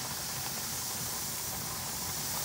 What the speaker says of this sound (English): the little valve has popped up and it's starting to release pressure, the steam coming up